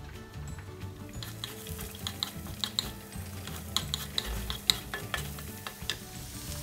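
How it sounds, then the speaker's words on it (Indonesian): Sliced onion sautéing in a little cooking oil for a tuna bread filling, with a soft sizzle under repeated scraping and tapping of a spatula against the pan. "Masukkan setengah sendok makan minyak goreng, dikit aja. Tumis bawang bombay."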